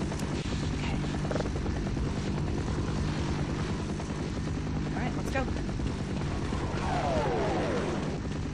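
A helicopter in the video game Half-Life gives a constant low rotor thrum under the game's din, with a brief sweeping whine near the end. A player talks over it.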